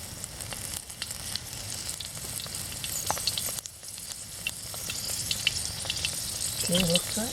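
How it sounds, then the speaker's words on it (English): Shrimp deep frying in 350-degree oil, a steady close hiss and crackle running throughout, with brief bubbling spurts and a faint voice underneath. "I turn on 350 and deep fry a little bit."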